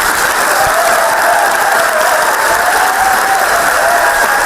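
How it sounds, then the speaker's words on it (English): An audience applauds loudly in a dense, steady wash of clapping that continues without a break. "That woman deserves a round of applause."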